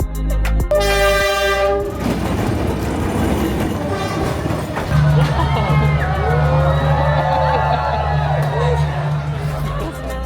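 A close train horn blasts briefly, then a train rumbles and clatters past at close range through a narrow Hanoi street, with screeching, squealing wheels and crowd noise.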